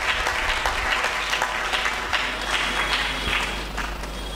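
Loud, dense applause from a church congregation at a French-language sermon, sustained clapping filling the space steadily for several seconds without speech.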